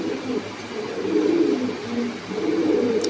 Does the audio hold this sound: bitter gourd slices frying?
no